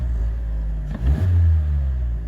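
The engine of a 2018 Mazda CX-3 idles steadily and then gives a single short rev as the throttle is tested, swelling briefly before settling back to a low, close hum.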